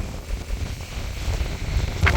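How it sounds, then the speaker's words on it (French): Strong outdoor wind buffets the microphone in heavy, gusting rumbles, loud and close throughout, with no talking. "pour vous montrer le vent qu'il y a"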